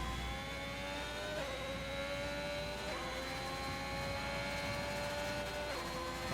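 Ferrari Formula 1 car engine in a racing game at Monza, a continuous high whining roar that climbs through the gears with brief drops at shifts, steady and fairly quiet, no talk.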